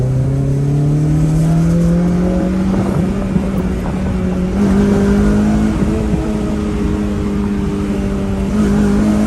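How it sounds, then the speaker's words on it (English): A K24-swapped Acura RSX engine revs high at night with the windows down, its pitch climbing steadily through a long pull, loud and close, with wind rushing past. "The K24 loves to be revved high like that, man."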